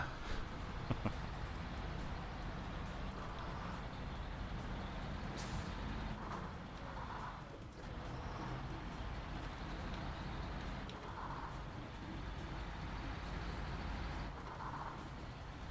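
A truck in the off-road driving game SnowRunner grinds along with a steady, low engine drone and road rumble, faint and continuous, with occasional brief hisses and clunks.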